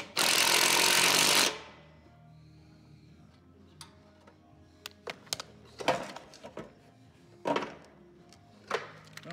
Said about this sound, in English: Take our impact and our half inch, put a half inch in there.